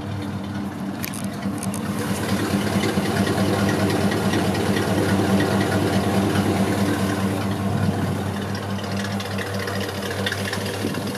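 A 1971 Chevy C10 Cheyenne pickup with side-exit dual exhaust idles close by, a smooth, even low rumble with a steady pulse that runs throughout at a constant level.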